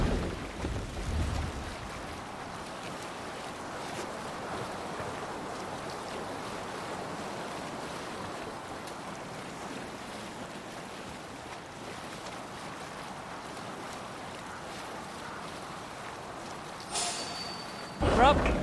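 A Viking longship under sail in Assassin's Creed Valhalla, with a steady wash of water and wind rushing along the hull and a brief louder splash near the end.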